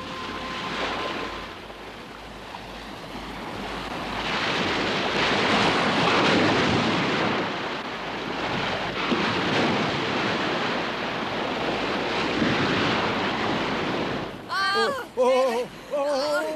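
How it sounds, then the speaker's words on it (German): Floodwater from rivers overflowing their banks rushes in a loud, continuous roar with surging swells, and a brief burst of other sound at the very end. "Die Flüsse steigen über die Ufer und überfluten das Land und reißen alles mit sich fort,"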